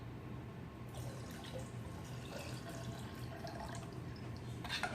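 Water is poured over used tea bags while cooking for a big crowd, a steady close splashing trickle that runs continuously throughout with a few louder splashes near the end.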